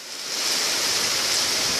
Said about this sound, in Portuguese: Não sei se dá pra ouvir o barulho da água.